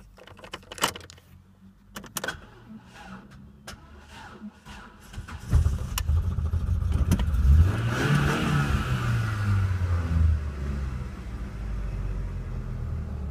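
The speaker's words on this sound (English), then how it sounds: "on the Ford Mondeo, cold start on a hot day" Ford Mondeo 1.8 LX cold start on a hot day: keys jangle and click first, then the engine cranks and catches, revving up to a loud, steady idle close by.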